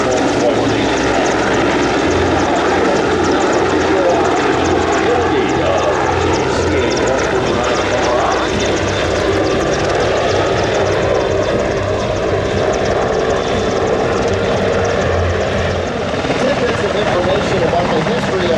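442 Search and Rescue Squadron helicopter at the Abbotsford Airshow, a loud continuous rotor thump and engine drone throughout, with an announcer talking over it.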